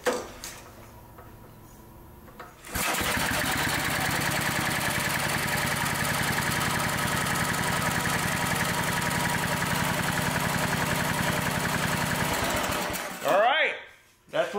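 A 1961 David Bradley walk-behind tractor's small engine runs warmed up, starting abruptly after a quieter stretch and holding a steady, loud, rapid ticking idle close by for about ten seconds before cutting off.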